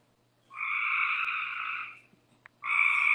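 Frogs call in long, buzzing trills at night, two extended croaking bursts close and clear with a short pause between, with no talk over them.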